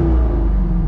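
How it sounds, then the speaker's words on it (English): A C5 Corvette engine with straight exhaust tips rumbles steadily from inside the cabin with the windows down, a deep, loud, continuous idle drone with no break. "It sounds so much more Corvette"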